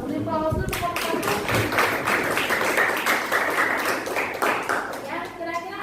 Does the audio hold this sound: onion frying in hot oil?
no